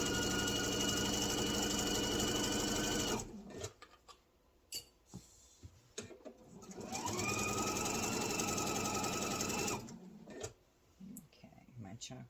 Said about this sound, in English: we're going to sew over to where we made our chalk line